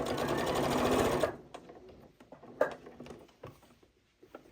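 A Janome 8200 QCP sewing machine stitches fabric for a bowl cozy: a loud, fast run of stitching, then quieter intermittent clicks and single stitches nearby.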